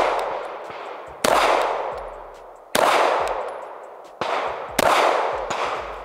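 Gunshots at an outdoor shooting range from a LWRCI IC DI rifle or SIG Legion P229 pistol: five loud, sharp reports spaced irregularly, each with a ringing decay, no talking.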